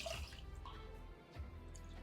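Water pours from a cup over seeraga samba rice being soaked for vegetable biryani, a steady close trickle and splash that runs for about two seconds with a brief dip partway.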